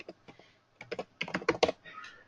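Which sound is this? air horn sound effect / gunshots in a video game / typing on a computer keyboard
typing on a computer keyboard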